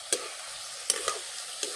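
Chicken curry sizzles in a hot pan while a spoon scrapes and stirs in a few sharp strokes.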